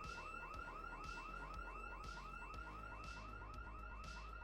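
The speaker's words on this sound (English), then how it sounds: "we got ourselves an alarm to deal with" A car alarm in the zombie survival game Project Zomboid wails in a fast, regular, repeating warble, steady and loud throughout with no talking over it.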